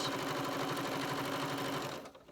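A sewing machine stitches a scant quarter-inch seam on a flying geese quilt block, a steady close whirring run of rapid needle strokes that slows and stops near the end.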